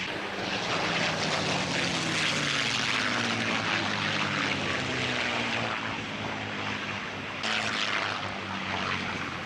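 P-51 Mustang propeller plane passing at the Duxford Flying Legends airshow, a loud, steady piston-engine drone that holds for several seconds with a slight shift in pitch as it flies by, and no voices.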